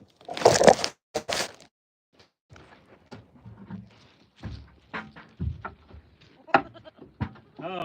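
Goats at a farm bleating close by in several short, irregular calls, mixed with crunching, rustling handling noises and a few spoken words.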